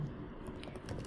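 Computer keyboard typing while entering code, with soft, close key taps in an irregular rhythm at low level, no talk over it.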